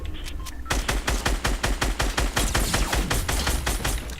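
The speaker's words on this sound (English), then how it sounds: "Another one's shooting at us." Gunfire in the video game Fortnite Battle Royale comes as rapid, evenly spaced shots in a continuous loud burst lasting several seconds.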